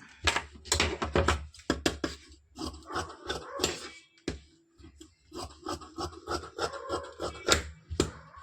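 Blouse lining fabric is cut with scissors, producing repeated close rasping snips in two bursts separated by a brief pause.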